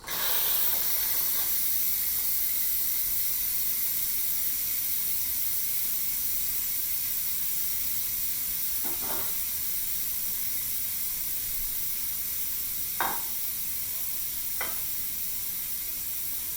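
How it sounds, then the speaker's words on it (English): Steam vents from a Quick Cooker electric pressure cooker holding pot roast, a loud, constant hiss that runs unbroken throughout, with a few faint clicks partway through. "now we're just going to push this button and let the steam release."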